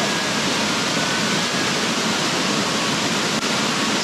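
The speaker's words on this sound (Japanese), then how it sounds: "滝だ。" Steady, loud roar of a waterfall beside a narrow mountain road descent on the Yabitsu Pass route, a continuous broadband rush of falling water filling the whole stretch with no voices.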